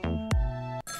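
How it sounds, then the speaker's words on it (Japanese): A short electronic telephone ring tone from the Ghost Trick video game, a synthesized chime with a sharp attack and sustained tonal ring, sounding once in clear isolation. "あ、電話来た。"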